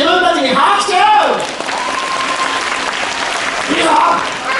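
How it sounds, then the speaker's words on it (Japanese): A theme-park crowd at a Universal Studios Japan show applauds itself, a dense wash of clapping with cheering voices rising at the start and again near the end, a host's voice heard over it. "自分たちに拍手。"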